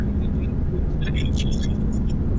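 A car climbs a hill road through valleys around Ahmednagar, its engine and road noise a steady, close rumble while people talk over it.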